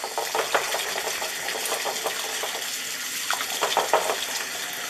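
Water runs steadily into a sink fitted with an overflow-preventing drain device, a continuous rushing hiss mixed with irregular splashes and a faint mechanical hum.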